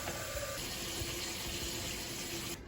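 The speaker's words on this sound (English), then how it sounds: "fill the rest of your water reservoir up with water" Tap water pours steadily into a coffee maker's water reservoir in a kitchen, a continuous close gushing and splashing with no speech.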